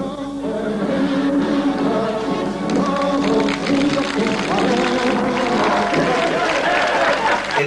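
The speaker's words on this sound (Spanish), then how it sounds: "Señores, reciban a este hombre con un caluroso aplauso." A television studio audience gives a steady, warm round of applause to welcome a guest, dense and continuous for several seconds, with voices and music-like tones running underneath.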